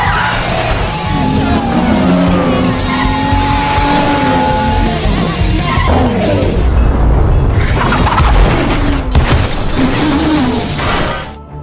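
Movie car chase ending in a brutal crash: engine roar and squealing tire skids build continuously, followed by crunching impact and scattered debris, all loud and dense with a music-like score beneath.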